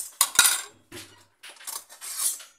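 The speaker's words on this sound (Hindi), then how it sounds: "इसके साथ मैं कुछ स्पून ऐड करती" Metal spoons clink and rattle against plates as they are set out beside dishes for a meal. Several separate bursts of clatter come close up, with short pauses between them and no talking.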